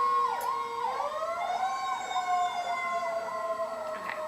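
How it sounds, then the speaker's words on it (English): Emergency vehicle sirens wail outside, a steady rising-and-falling tone sweeping up and down in repeated cycles, moderately loud and continuous with faint road traffic underneath and no talk. "don't mind the sirens, just let them pass"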